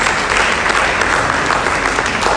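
A crowd at a university symposium in Nsukka, Nigeria claps loudly and continuously, a thick, even wash of many hands with no voices standing out.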